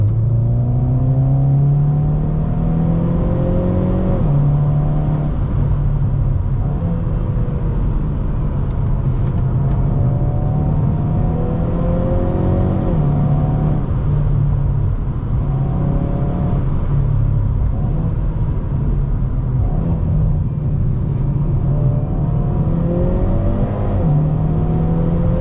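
A 2022 Hyundai Veloster N with a dual-clutch gearbox pulls hard from inside the cabin, its engine drone climbing in pitch, then dropping sharply at each upshift in a repeated rise-and-fall pattern under steady road rumble.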